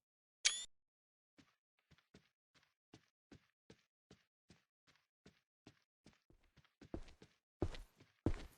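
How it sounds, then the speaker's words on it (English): Footsteps in the video game Evil Nun fall at a steady walking pace, soft and fairly faint with a sharp tap at the start and a couple of louder thumps near the end. "There's the footsteps."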